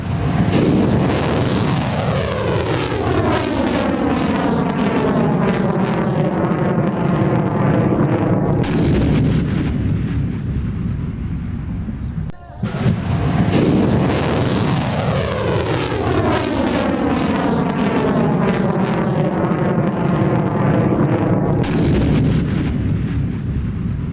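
Fatah-2 missile test launch in Pakistan: a loud, sustained roaring rush of rocket motor and blast that sweeps down in pitch, repeated twice in succession with no talk.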